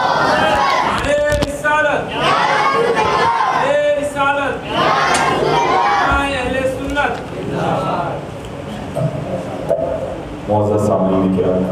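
A large gathering at a Milad-un-Nabi religious event chants takbir in loud rhythmic unison, several surging calls from many voices that fill the space, with a single voice leading between the responses.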